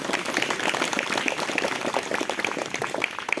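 A church congregation claps in praise during a Hindi sermon, a steady stream of many hands clapping close by, with no talk over it.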